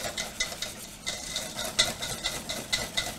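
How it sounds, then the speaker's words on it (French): Chocolate cream being mixed in a bowl for a chocolat liégeois, rhythmic scraping and tapping strokes of a utensil repeating close by at moderate volume against a soft hiss. "Là, tu mélanges bien."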